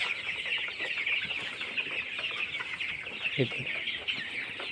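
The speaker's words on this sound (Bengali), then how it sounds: "এগুলার বয়স আজকে এক মাস টাইগার মুরগিগুলা অরিজিনাল টাইগার" One-month-old Tiger breed chickens cluck and chatter continuously at a poultry farm in Anwara, Chattogram, a dense overlapping chorus of short calls at moderate distance, with a faint voice now and then.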